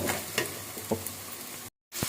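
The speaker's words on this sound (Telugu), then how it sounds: "ఇప్పుడు మనం వాటర్ అనేది యాడ్ చేసేసుకుందాము" Masala water for an egg curry with cashew paste goes into a pan where eggs are frying, bringing a burst of sizzling and bubbling with a few clinks and stirs, then a brief silence.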